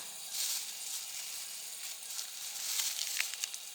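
Cumin seeds frying in hot oil in a pan while cooking outdoors in a forest, a soft continuous sizzle with small crackling bursts, close and fairly quiet.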